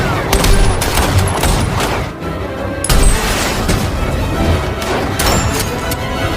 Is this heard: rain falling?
no